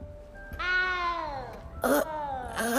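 A small cat meowing in the video game Hogwarts Legacy: a long, drawn-out meow followed by two shorter, plaintive meows, clear and close over quiet game ambience.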